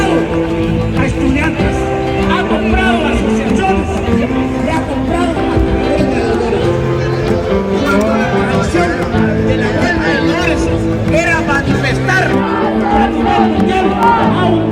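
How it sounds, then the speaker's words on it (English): A large protest crowd outside the National Palace in Guatemala City fills the air with dense, continuous chanting and shouting voices, loud and close, with a sustained roar of many people. "It definitely felt like a protest crowd in front of the National Palace."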